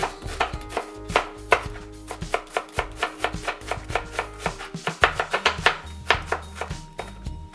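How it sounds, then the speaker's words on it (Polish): Onion finely diced with a knife on a board: a quick, uneven run of crisp chops, close and distinct, tapping along for several seconds without talk. "Następnie cebulę kroję w drobną kostkę."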